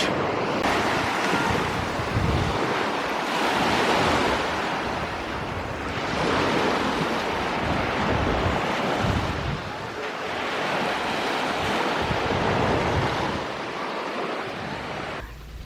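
Sea waves wash onto the beach at Kıyıköy, a loud continuous roar of surf that swells and eases in slow surges, with wind buffeting the microphone throughout.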